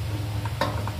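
Black chickpea koftas fry in hot oil in a kadhai, giving a steady soft sizzle with a brief crackling burst partway through.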